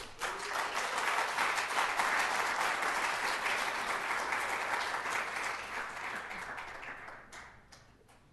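An audience bursts into sustained clapping in a city council meeting room, loud at first and then thinning out and fading over several seconds.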